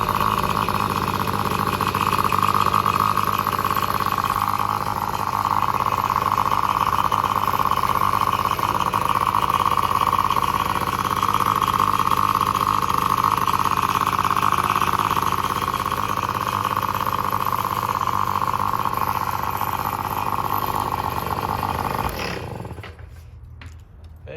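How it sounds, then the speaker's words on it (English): A small vintage Tomos moped engine idles steadily with a constant droning hum for over twenty seconds, then cuts off abruptly near the end. "See, it's idling a lot better."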